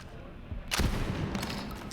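A single-shot gun fires once in the video game Borderlands 3, a sharp, loud crack that gives way to a sustained rumbling wash of game noise.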